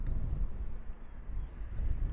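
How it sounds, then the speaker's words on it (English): Wind blowing outdoors during a DJI Mini 4K drone flight, a low, uneven rumble of gusts buffeting the microphone, steady and fairly loud throughout with no talking. "you can also hear that it is a little bit windy now"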